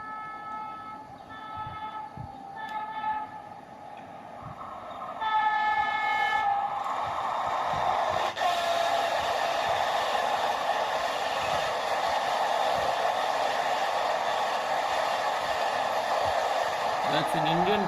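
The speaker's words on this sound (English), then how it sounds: "That's an Indian train, the Vande Bharat Express, running through some station in India." A Vande Bharat Express train roars steadily through a station in India, its horn sounding briefly early on, building to a loud continuous rushing rumble that fills the rest of the clip.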